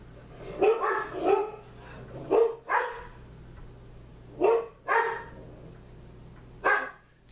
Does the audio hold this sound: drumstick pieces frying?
no